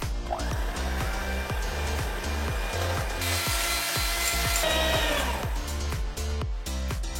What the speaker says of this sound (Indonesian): Lalu kita kocok dengan menggunakan mixer sampai mengembang.